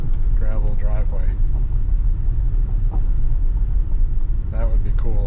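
A Tesla running FSD Beta 10.12.2 rolls slowly over a gravel driveway, giving a steady low rumble of tires and cabin noise throughout, with people talking over it at the start and end.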